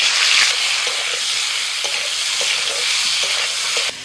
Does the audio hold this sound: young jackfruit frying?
yes